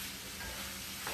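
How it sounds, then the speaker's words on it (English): Andouille sausage meat sizzles loudly in a pan as it is stirred, a dense continuous frying hiss with no pause across the short stretch. "All right, we're gonna stir that meat again."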